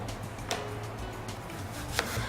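A knife chops a small apple, kept in lemon water, for the blender: a few soft, close cuts against a board, with one or two sharper taps, and no talk.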